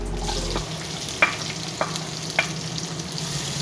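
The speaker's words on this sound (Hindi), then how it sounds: "अच्छा, अब मैं प्याज डालती हूँ इसमें। प्याज डाल दी मैंने।" Onions frying in hot oil for mutton with okra give a steady close sizzle, with a few sharp spatula scrapes against the pan.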